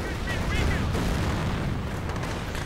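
Artillery fire and a bombing run in a World War II strategy video game battle: dense, continuous rumbling booms and explosions under a steady commentator voice.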